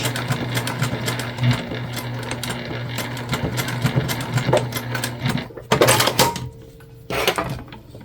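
A sewing machine stitches a bag handle and then backstitches, running in a steady close mechanical whir with a brief stop, a short reverse burst and clicks near the end.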